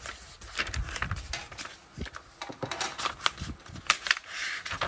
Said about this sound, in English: now you see I'm peeling away the backing from my image.